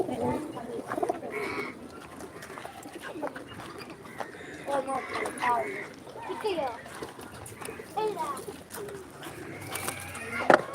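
Soft pigeon cooing repeats around a spot where water has been put out for the doves, mostly under ongoing conversation between people nearby.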